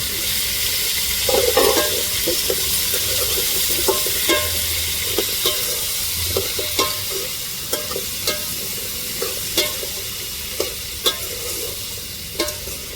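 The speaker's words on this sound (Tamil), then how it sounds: "இப்போ கத்திரிக்காய் முருங்கைக்காய் உருளைக்கிழங்கு தக்காளி மிளகாய் மல்லிதழை எல்லாத்தையுமே சேர்த்துக்கிடுவோம்" Eggplant, drumstick, potato, tomato, green chili and coriander leaves sautéing in a pan for a tamarind curry give a steady close sizzle, punctuated by repeated sharp spoon scrapes and knocks as the vegetables are stirred, with no talking.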